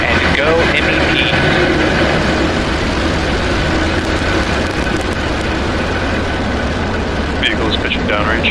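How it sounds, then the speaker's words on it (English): A Falcon 9 rocket ignites and lifts off with a loud, continuous, broadband roar that holds steady throughout, while a voice speaks over it. "Ignition and liftoff."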